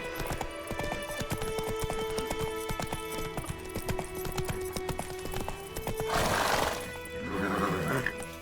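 Hoofbeats of a galloping horse in The Witcher 3, rapid rhythmic clip-clop under game music, followed by a loud neigh near the end and a brief rustle of movement.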